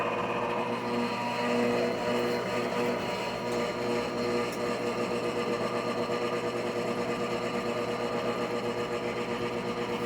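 An electric mixer beats fudge cake batter on a medium setting, giving a steady, continuous motor whir with a dense rattling texture that holds unchanged throughout, close and loud with no voices.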